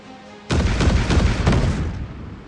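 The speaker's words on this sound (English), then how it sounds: "Missile away." A missile launches from a warship's silo in the Warships Mobile naval game with a sudden loud roaring blast that sustains for over a second before fading.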